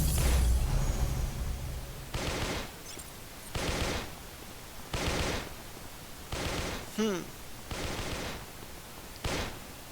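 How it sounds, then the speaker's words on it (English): Video game gunfire from an NPC shooting zombies rings out in about seven sharp, loud bursts spaced a second or so apart, each a broad crack with a short tail, over a steady hum. "NPC shooting some people, zombies"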